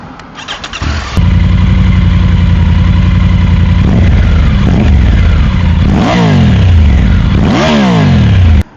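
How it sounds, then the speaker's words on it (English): A Triumph Tiger 900 GT motorcycle engine cranks and fires up, then runs loud and close at a steady idle, with a few sharp throttle blips revving it up and back down near the end. "I want to do a sound check, see how nice the bike sounds"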